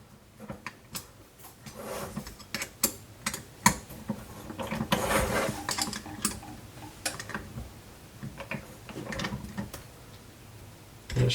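Metal shoulder bolt axle on a Mark II swerve drive module being tightened, giving a run of close, irregular ratchet clicks and small mechanical ticks with brief pauses.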